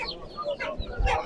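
Chickens, including laying hens and Brahma chicks for sale, cluck at a busy outdoor poultry market, short soft calls rising over a murmur of crowd noise.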